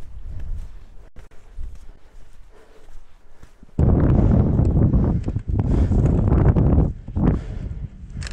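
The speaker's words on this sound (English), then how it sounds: "the wind has picked up quite a bit" Wind gusting across a small col on a mountain ridge in sub-zero winter conditions, buffeting the microphone as a loud, broad roar that rises sharply partway through after a quieter stretch with breathing and footsteps.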